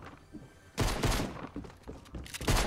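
Gunshots ring out in Fortnite after a brief quiet, a sudden loud burst followed by a ragged string of further shots and impacts that stays busy to the end.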